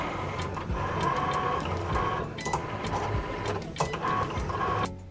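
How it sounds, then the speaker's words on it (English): A Cricut cutting machine cuts cardstock leaves for dinosaur birthday party decorations, giving a steady motorized whir with repeated clicks and shifting carriage movements for about five seconds. "Click continue to let your Cricut machine do its thing."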